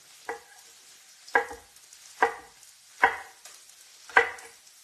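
Pork chops with figs and a little hot pepper being stirred in a frying pan: five separate scraping strokes, roughly one per second, over a faint sizzle, with no talking.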